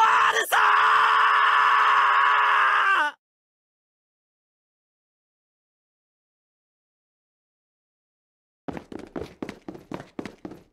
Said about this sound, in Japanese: うるせえ悲鳴が聞こえてきやがる。